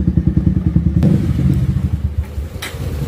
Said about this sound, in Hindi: अभी चल जाता हूँ फटाफट से बाइक में, तो चलते हैं फटाफट।